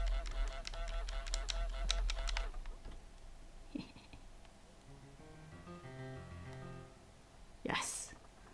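In Untitled Goose Game, rapid clicks and game sounds open the scene, followed by a sequence of tonal in-game musical notes and a sharp honk-like burst near the end, with quiet speech-like murmuring in between.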